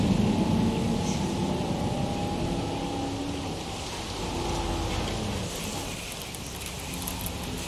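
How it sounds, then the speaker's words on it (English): Rainstorm in the game Jurassic World Evolution: a steady wash of rain falling on surfaces, fading slightly over time, with a low rumbling undertone and no voices. "Okay, I believe that's the end of the storm."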